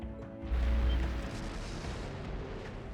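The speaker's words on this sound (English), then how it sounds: "What was that? Tremor? It came from right below us." A deep tremor rumbles below a hangar in the Trails of Cold Steel video game, a sustained low boom that swells and then lingers as a steady rolling roar, with no voices.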